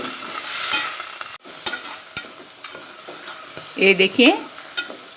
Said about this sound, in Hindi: मसूर अच्छी तरीके से तले जा चुके हैं, थोड़े से क्रिस्पी हो गए हैं।